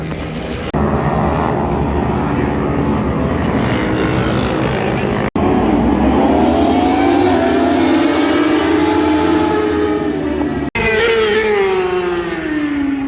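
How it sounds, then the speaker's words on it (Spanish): Superbike motorcycles run on a race track in San Juan, their engines loud and close in long howling passes whose pitch climbs and falls, with two abrupt cuts between bursts and no voices. "ese ruido de las motos me encanta"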